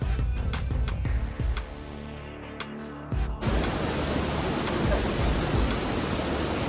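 Saat Sadda, a hidden waterfall in the Maharashtra mountains that drops down seven tiers. Its steady, full rushing roar cuts in partway through after quieter, uneven sounds and then continues unbroken.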